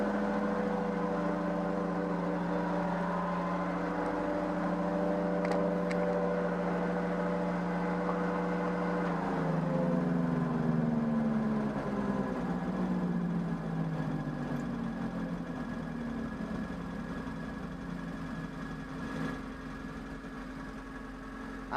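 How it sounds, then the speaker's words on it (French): A raised Peugeot 104 GLS with its wheels spinning makes a steady engine drone overlaid with a whining, tonal transmission noise that shifts in pitch partway through, continuous and fairly loud throughout. "apparemment j'ai un petit problème de transmission"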